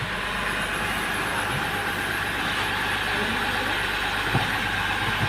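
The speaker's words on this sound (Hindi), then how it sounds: "गाड़ी हो गई स्टार्ट" A Mahindra Bolero's engine idles steadily just after starting, a continuous low rumble with even, unbroken loudness close by, following brake shoe work; no one speaks.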